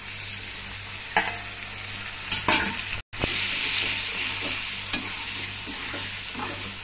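Pieces of goat blood fry in a pan with a steady close sizzle, broken by a few spatula scrapes and a brief cut partway through.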